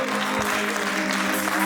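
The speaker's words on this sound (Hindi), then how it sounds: "जोरदार तालियां हो" Audience applause at an Urdu poetry mushaira honoring a poet, a steady, dense wash of clapping across the whole moment with a constant hum underneath.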